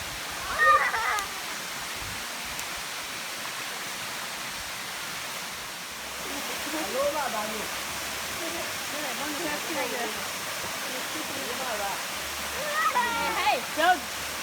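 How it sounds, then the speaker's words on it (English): A waterfall pours into a pool, and it sounds as a steady, broad hiss of falling water that runs the whole time. Faint voices and bright chirps come through over it now and then. "You see waterfall over there?"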